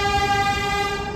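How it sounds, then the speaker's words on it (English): A New York City subway train blares its horn in one long, steady harmonic tone, loud and close, over a low rumble of the cars. "Oh, another train."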